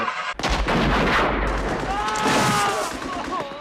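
Intense gunfire and explosions from the opening battle scene of the 1987 war movie Hamburger Hill roar loudly and continuously, with shouting voices mixed into the din.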